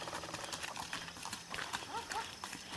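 Hooves of a ridden horse clip-clopping on a rural trail in the hills of Paraná, Brazil, with quick repeated steps close by and people talking over them.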